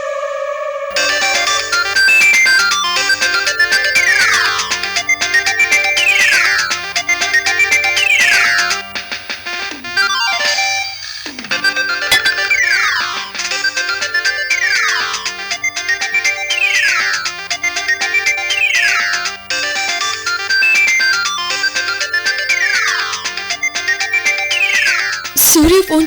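A loud, repeating electronic phone ringtone plays through the whole stretch, announcing an incoming call from Surya in a Telugu TV serial scene, with bright melodic phrases cycling over a steady low drone and a brief dip near the middle.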